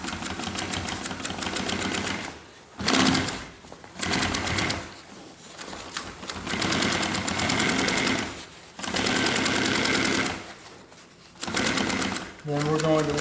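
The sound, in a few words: sewing machine stitching backpack fabric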